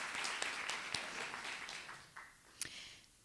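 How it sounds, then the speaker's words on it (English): Audience applause at a live poetry event with young people, a faint, distant patter of many hands clapping that thins out toward the end, with a few sharper individual claps standing out. "Round of applause for yourselves."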